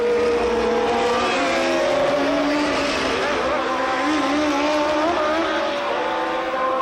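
Formula 1 race cars at the 1981 Italian Grand Prix at Monza scream past with high, sweeping engine notes that rise and fall continuously, loud and near, blended with broadcast crowd and track ambience.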